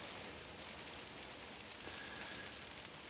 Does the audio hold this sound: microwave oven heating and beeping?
no